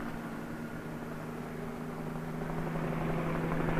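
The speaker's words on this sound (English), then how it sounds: "Whirling over the city, a police helicopter reports traffic movement to the operations center." Police helicopter flying over a city, a steady droning rotor and engine hum holding at a distance throughout, with no voices.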